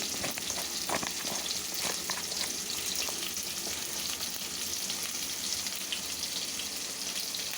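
Tender bamboo shoots sauté in a pan with turmeric powder, a steady close frying sizzle with faint stirring scrapes running throughout, no voices.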